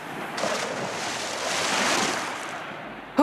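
Sea surf washes around a big ship in a broad, hissing roar that swells toward the middle and eases off. It ends in a sudden short hit like a splash, with no voices.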